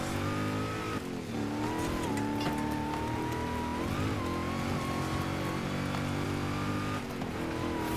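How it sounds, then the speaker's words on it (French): A car engine in Forza Horizon 5 labors and drones steadily through sand on a cross-country race, its loud, continuous roar shifting pitch as it strains, with tire noise throughout. "On sent la voiture peiner dans le sable."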